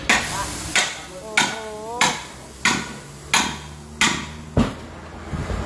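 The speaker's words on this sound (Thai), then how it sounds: "ใช้ สกัดกับค้อนนะครับ" Hammer striking a chisel to cut a tire off an alloy wheel, about eight sharp metallic blows at a slow, slightly uneven pace, close and clear, with a brief ringing squeal after one strike.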